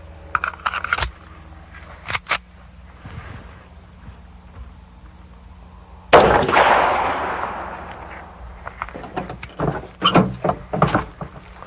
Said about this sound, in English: And now we're going to try the 45. This is a 230 grain full metal jacket bullet first.